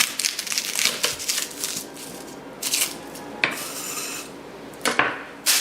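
A knife cuts through the top of a head of garlic on a kitchen board, giving a few short, close scraping and clacking strokes separated by pauses.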